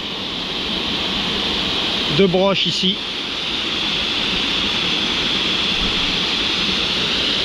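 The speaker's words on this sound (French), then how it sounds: "donc effectivement cascade de 6 mètres" A six-metre waterfall in the Concluses de Lussan canyon in the Gard roars as a steady, loud broadband rush throughout, with a brief spoken phrase over it near the middle.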